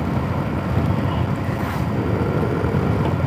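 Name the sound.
strong wind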